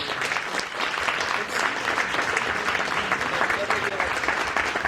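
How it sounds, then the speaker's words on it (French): Audience at a literary talk applauds two guest authors, a steady, dense wash of clapping from a full room lasting throughout without a break. "je crois qu'il nous reste à applaudir nos 2 invités"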